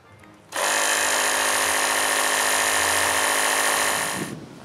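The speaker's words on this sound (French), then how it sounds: "Il faut que je gonfle les 2 pneus du trailer" A steady, loud mechanical whine starts abruptly and runs for several seconds before cutting off, a small electric air pump inflating boat trailer tires.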